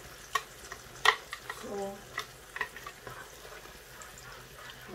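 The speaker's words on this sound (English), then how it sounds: "I'm going to be frying this one while the spaghetti is boiling." Food stirred in a pan of used frying oil gives light clicks, soft scraping and a low sizzle, with a brief word spoken in between.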